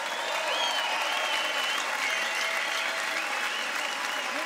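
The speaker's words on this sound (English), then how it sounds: "Ladies and gentlemen, a big round of applause for both fighters" Loud, steady applause from an arena crowd at a kickboxing event, a dense wash of clapping that holds at even strength throughout without letting up.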